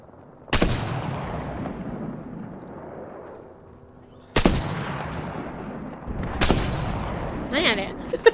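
Apex Legends gunfire comes in three sharp bursts spread across the stretch, each a loud crack with a decaying tail, the last followed by a quick cluster of smaller pops.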